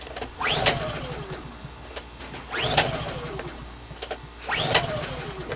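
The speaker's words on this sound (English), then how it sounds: "After the generator stopped running, try to restart it again." Honda EU2 portable generator engine being restarted after running dry during winterizing, three separate cranking pulls roughly two seconds apart, each a short rising whir followed by a brief sputter, fairly close with no voices.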